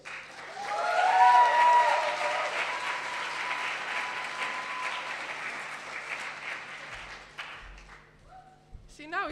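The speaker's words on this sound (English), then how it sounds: "So please make an enormous round of applause for her as she gives a Society Community Impact of the Year." Loud audience applause at a student leadership awards ceremony swells early and fades gradually over several seconds as an award winner comes to the stage, with cheers and a few voices mixed into the clapping.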